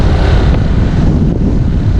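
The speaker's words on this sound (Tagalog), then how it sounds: "Grabe, gusto ng hangin mga master." Strong wind buffets the microphone in a dense, continuous low roar with no letup, loud and close, with no speech over it.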